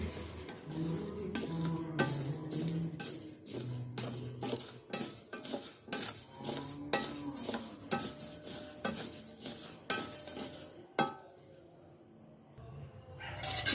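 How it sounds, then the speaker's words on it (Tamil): Idli podi ingredients dry roasted in a pan over a wood-fired stove, with steady scraping and stirring clatter of a utensil against the pan, repeated close metallic knocks and a light dry rustle, with no talk. "நான் நல்லா வறுத்துக்கிட்டுருக்கேங்க எண்ணெய் ஊற்றலாம் ட்ரை ரோஸ்ட் பண்ணுறோம்"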